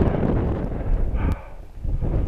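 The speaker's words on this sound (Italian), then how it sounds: "c'è un vento boia" Strong wind buffets the microphone on a foggy mountain ridge of Monte Alfeo, about 1,650 metres up, with loud low rumbling gusts that ease briefly midway and then return.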